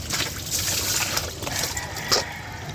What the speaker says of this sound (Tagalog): Ligo mi ni Asmin ron, si Asmin.